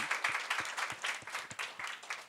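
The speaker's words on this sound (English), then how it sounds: "A big round of applause for his journey." A small audience claps at a jobs panel, the sparse, fairly faint claps landing in a loose, steady rhythm rather than a full roar.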